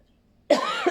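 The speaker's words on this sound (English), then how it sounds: "Sorry if I cough," A single harsh cough bursts out after a half-second of silence from someone with a cold, close and fairly loud, with a brief second rough burst at the end.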